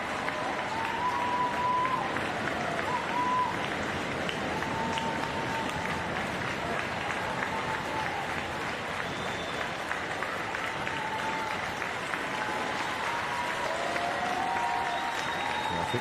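A home crowd at a para table tennis match applauds a retiring player with sustained, even clapping from a large audience. A commentator's voice sits faintly beneath the applause.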